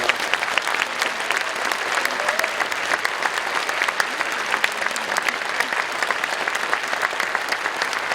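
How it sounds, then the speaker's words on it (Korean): A church congregation applauds to welcome visiting Tanzanian kindergarten and primary school pupils, officials and parents at an anniversary thanksgiving service, a steady dense clapping that fills the hall without pause. "우리 박수로 환영했으면 좋겠습니다."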